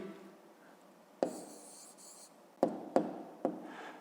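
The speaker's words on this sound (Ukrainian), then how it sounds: "тепер записуємо відповідь. Пишемо відповідь." A pen writes an answer by hand on paper, a soft close scratching stroke followed by several short taps and scribbles, quiet and without talking.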